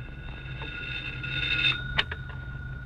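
An old-style household telephone bell rings faintly in a 1947 radio drama, a steady high trilling tone with a brief sharper clang near the end, heard alone without voices.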